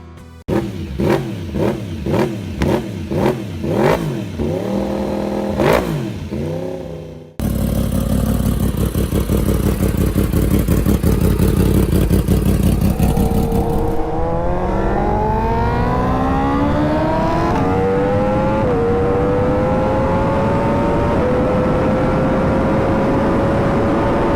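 A Yamaha motorcycle with a non-traditional inline-four engine, loud and close: a string of sharp throttle blips, then a sustained roar that climbs steadily in pitch as it accelerates and holds at high revs.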